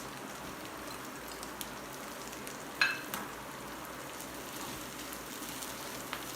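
Chicken chatpata frying in a pan as curry leaves and coriander leaves are tossed in: a continuous hissing sizzle with one sharp crackling burst partway through, close and even.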